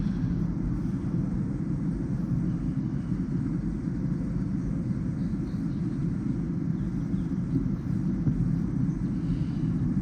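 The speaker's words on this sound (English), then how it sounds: "Plane flying overhead." A steady low rumble of an airplane passing over a Vermont farmhouse, constant and droning throughout with no voices.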